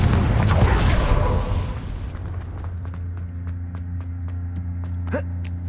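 A Confringo fire spell blasts in Hogwarts Legacy, a loud roaring explosion that swells at once and then rumbles and fades into quieter game ambience with faint magical chimes and small pops.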